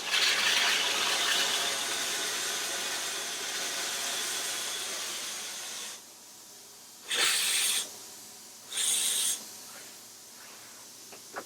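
Water runs from RV shower taps, hot and cold, in a loud hissing spray for about six seconds, then stops, followed by two brief hissing bursts as the taps are opened and closed again.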